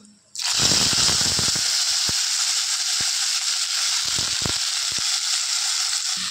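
Cumin and dried chillies hit hot oil with a sudden loud sizzle that keeps crackling steadily for several seconds. A few sharp clicks and pops of a spoon sound against the pan, and bottle gourd goes in.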